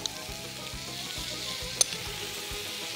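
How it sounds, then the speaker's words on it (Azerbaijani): Tomatoes sauté in a chicken grill pan with a soft, continuous close-up sizzle and one sharp clink partway through. "toyuq bişən tavada bunları qəşən, bax, belə pörtlədirik"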